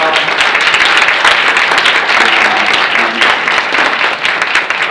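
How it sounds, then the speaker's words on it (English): A meeting audience breaks into applause for the staff, a dense, loud wash of many hands clapping steadily throughout with no gaps. "I applaud all the staff. Give them a hand."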